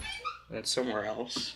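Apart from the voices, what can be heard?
dog whimpering and yipping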